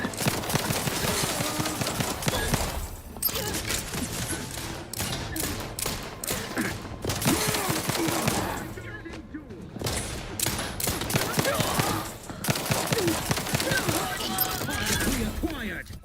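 Plasma gun firing in The Outer Worlds 2, rapid bursts of loud shots and thuds throughout, mixed with other game sounds and a voice talking over them.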